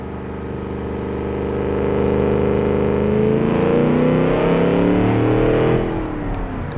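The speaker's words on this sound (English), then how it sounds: "you hear that angry engine?" A sports car engine in the game Automation revs up steadily and holds a loud, throaty drone on a test track, with its pitch climbing through the gears before it eases off near the end.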